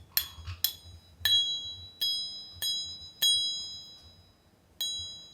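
A parrot pecks at a thrifted glass object, producing about seven separate bright ringing pings that each decay slowly, spaced unevenly about half a second to a second apart, close and clear with a faint background hum.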